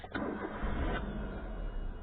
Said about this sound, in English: To start the engine, you have to twist this.